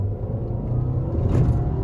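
A Volkswagen Jetta TSI accelerating on a city road, heard from inside as a steady, loud low engine rumble that swells slightly as it picks up speed.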